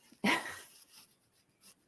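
A single sharp dog bark snaps out close and loud, followed by a few faint whimpering yips trailing off, with no talk over it.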